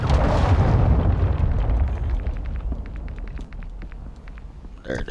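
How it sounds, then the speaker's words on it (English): A cruise missile explodes in a video game with a heavy, loud boom at the start that rolls into a long rumbling decay, thinning into scattered crackles and small pops near the end. "Hostiles launched a cruise missile."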